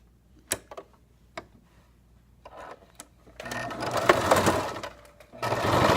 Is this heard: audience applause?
no